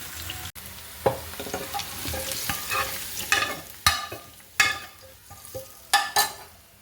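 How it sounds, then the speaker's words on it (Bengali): Onions frying in oil to make beresta for a Bengali goat-head dish with mung dal, with an ongoing sizzle broken by sharp spoon stirs and scrapes against the pan every second or so, close and fairly loud, no voices. "পেঁয়াজগুলোকে আমি বেরেস্তা করে নিব আগে।"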